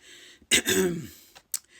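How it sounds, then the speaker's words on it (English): A single throaty cough or throat-clearing burst, close and fairly quiet, followed by a short breathy catch. "Still struggling with a cough."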